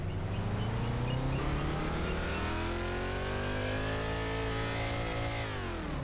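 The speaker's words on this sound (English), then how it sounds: "it drives just like a drag car" Drag car in Farming Simulator 25 launching off the line, its engine note climbing steadily in pitch as it accelerates hard, loud and continuous throughout with no talk over it.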